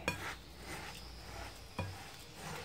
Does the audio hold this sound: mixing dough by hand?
yes